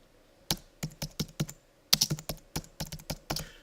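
A search query is typed on a computer keyboard in a burst of crisp, close keystrokes, with a short pause partway through and then a quicker run of clicks.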